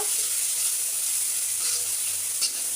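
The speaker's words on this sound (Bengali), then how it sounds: "এখন হচ্ছে এই যে শুটকি মাছগুলো দিয়ে দিয়েছি তো এগুলো আগে একটু কষা মানে করে নেব" Dried fish (shutki) fries in oil in a pan on a gas stove, a steady close sizzle with occasional stirring scrapes and a brief pop near the end.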